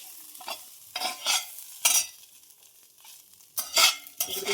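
A utensil stirs modak filling of coconut and poppy seeds in ghee, giving close, scraping strokes in uneven bursts over a soft frying sizzle, with short pauses between rounds.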